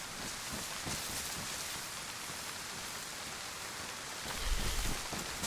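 Steady rain falling in the video game DayZ, a constant broadband hiss throughout at moderate level, with a slight low rumble swelling near the end and no talk.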